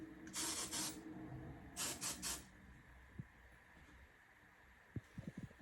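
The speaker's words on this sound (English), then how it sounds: "for the flyaways, you go in with some hairspray or some gel" Hairspray from an aerosol can sprayed onto long hair, two separate hissing bursts up close, the second broken into short puffs, then quiet handling taps and rustles.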